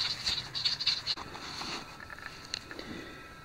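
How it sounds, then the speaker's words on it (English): Agitated birds call outdoors at a metal-detecting dig site, giving a few sharp, high chirps in quick bursts at the start and a later single call over faint wind and rustle. "Come across these birds, they're mad."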